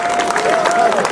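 Audience applause for a band at a Macedonian alternative music awards event, steady crowd clapping with some cheering through the whole moment.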